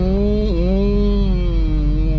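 A steady CVT gearbox whine hums over a low engine drone inside a moving 2014 Proton Saga 1.3 FLX automatic, its pitch dipping slightly and gliding as the car drives on.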